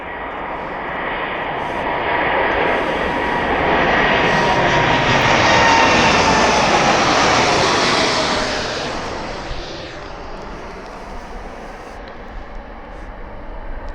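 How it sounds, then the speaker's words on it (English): A fixed-wing airliner taking off at East Midlands Airport: a broad engine roar swells over several seconds, holds loud and steady as the aircraft accelerates down the runway, then gradually fades as it climbs away. "that was, I think, the best takeoff that aircraft has done since filming this."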